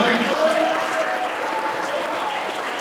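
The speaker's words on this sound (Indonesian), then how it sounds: "Baik, tepuk tangan semuanya." An audience claps together at a public recitation exam on Quranic sciences at an Islamic boarding school in Indramayu, producing a steady, dense burst of applause for about three seconds, with some voices mixed in.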